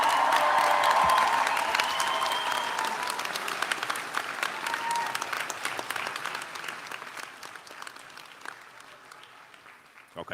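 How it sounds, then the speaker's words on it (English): Graduation ceremony audience gives a big round of applause at Buckinghamshire New University, loud sustained clapping filling the hall and slowly thinning over ten seconds. "Please, big round of applause."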